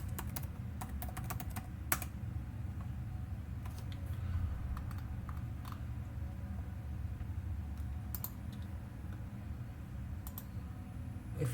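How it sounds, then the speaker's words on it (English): Fingers typing on a computer keyboard, quiet and nearby, with scattered bursts of sharp key clicks separated by pauses, over a low steady room hum, no speech. "let's type earth.local"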